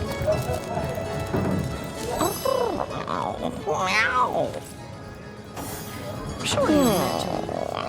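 A cat in the Divinity: Original Sin video game meows several times, clear and close, with drawn-out rising and falling cries over a background of hoofbeats and town ambience, with a voice speaking.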